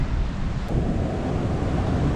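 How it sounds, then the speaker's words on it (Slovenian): Ocean waves breaking and washing onto a sandy beach in the Azores, a steady loud roar of surf with wind buffeting the microphone throughout. "Evo, ampak teri valovi so pa neverjetni."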